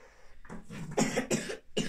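A child coughs several times in quick succession, close by, with a short pause before the last cough.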